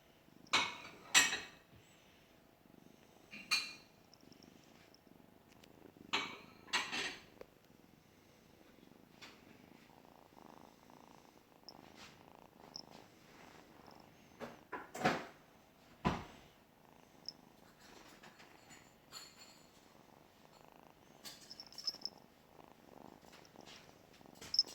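A cat purrs quietly and continuously close up, broken by scattered sharp knocks and clatters in the room; no one speaks.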